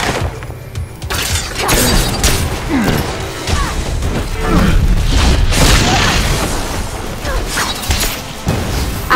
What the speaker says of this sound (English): The enemy has fired the orbital cannon.